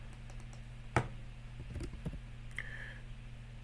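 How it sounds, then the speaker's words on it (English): Quiet, sparse keystrokes tap on a computer keyboard, a few light clicks and one sharper press over a low steady hum. "So in the search, I just start typing what I want"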